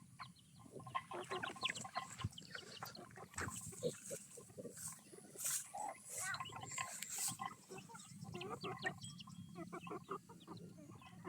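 Chickens shut in a pen on a rural farm give soft, scattered clucks and chirps, with a pig grunting among them, faint and somewhat distant against a quiet outdoor background.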